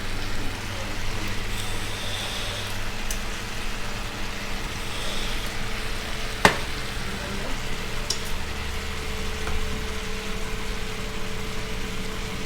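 Honey fire BBQ chicken wings sizzle in a pan with a continuous, even hiss from start to finish, broken by one sharp clack partway through.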